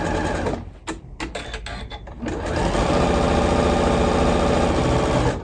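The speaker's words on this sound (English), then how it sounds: "I'm going to sew 1/8 of an inch or right up against the edge of the channel, sewing all the way along." A domestic sewing machine stitches along the drawstring channel of a fabric shoe bag. The motor starts and stops in short bursts, then settles into a steady, close, continuous whir.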